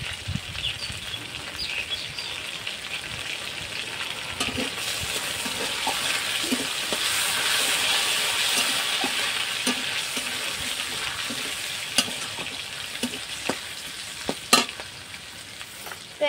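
Bay leaves, dried red chillies and whole garam masala frying in hot oil, a steady close sizzle holding throughout, with occasional light clinks and taps of stirring near the end.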